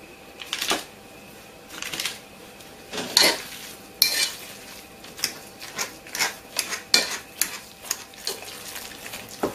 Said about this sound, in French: Et là maintenant, je vais écraser à la fourchette